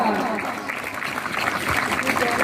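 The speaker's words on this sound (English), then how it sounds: "A big round of applause for Sensi Shantanu Haldar." Crowd applause at a karate championship event on a railway ground, honouring a district champion, sustained clapping with voices mixed in.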